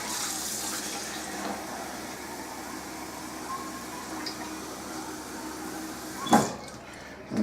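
Two cups of very hot water running from a kitchen tap for dissolving bread yeast, a steady broadband flow with a brief clatter near the end.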